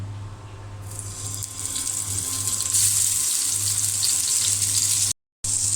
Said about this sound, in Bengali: তেল গরম হয়ে গিয়েছে, আমি এখন বেগুন দিয়ে দেব।